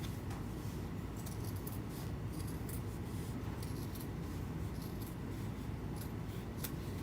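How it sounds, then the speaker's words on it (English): Scissors cutting a heart shape out of folded paper for a craft project, giving faint, repeated snipping and rustling over a low steady background hum. "I'm just going to cut out half of a heart shape"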